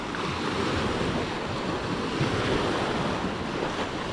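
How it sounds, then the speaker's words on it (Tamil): Ocean waves break on a beach in a continuous loud rushing wash, close to the microphone, with gusts of wind rumbling underneath and no talking. "அந்த தண்ணீர் கடற்கரையில் வந்து மோதுகின்ற அழகை பார்க்கும் பொழுது அந்த சத்தம் நமக்கு ஏற்படுத்துகின்றதான அதிர்வுகள் எல்லாம் மிகவும் அருமையாக இருக்கும்"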